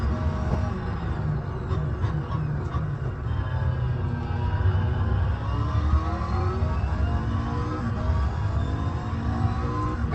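A car engine in a racing video game played on a sim rig, a steady hum that rises and falls through gear changes at moderate loudness, with no talk.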